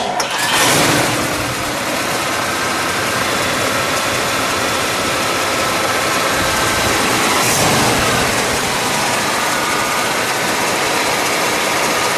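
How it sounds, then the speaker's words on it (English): A 1955 Oldsmobile 98 Starfire convertible engine cranks and catches, then runs loud and rough, revving up and down in a steady roar close by. "let's fire it up"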